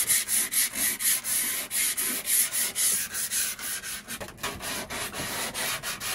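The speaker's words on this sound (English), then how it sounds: "So we're currently sanding all the areas that are gonna get some either varnish or paint" Rhythmic back-and-forth scratching of sandpaper rubbing on wood inside a boat cabin, quick regular strokes with a brief pause midway, close and fairly loud.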